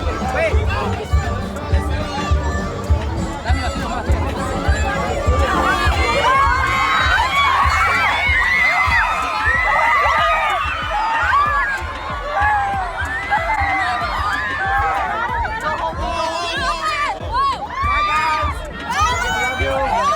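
A crowd of excited fans mobs people at a meet and greet, with loud overlapping shrieks, shouting and chatter pressing in close throughout and rising in frantic bursts.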